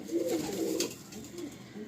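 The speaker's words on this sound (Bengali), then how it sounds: "এই প্রথমে নর পায়রাটা দিলাম" A pigeon coos softly nearby in a loft of pigeons kept for sale, one short throaty rolling call over a low background hum.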